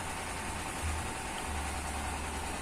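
A rice huller engine runs at low RPM with a steady, even drone and a dense broadband mechanical rumble throughout, with no talk.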